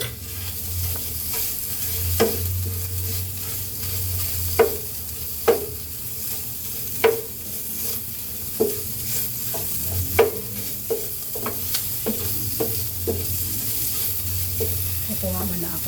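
Ground meat sizzles steadily in a hot pan while a utensil stirs and scrapes it, giving a continuous fry hiss broken by a dozen or so sharp, irregular clacks against the pan, close and fairly loud.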